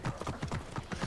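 A horse trots in Assassin's Creed Origins, its hooves striking in a quick, even clip-clop rhythm, close and moderately loud, over a short stretch.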